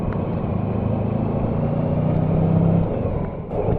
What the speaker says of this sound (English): See that car's catching up on me,